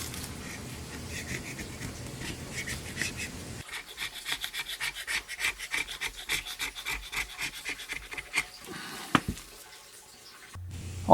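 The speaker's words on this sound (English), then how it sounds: "I had to sand down a lot of the areas where there were deep gouges in the wood" Sandpaper rubs back and forth over the wooden stock of a Crosman Vantage NP air rifle, a close, rhythmic stroking rasp repeated many times, with a sharp knock near the end.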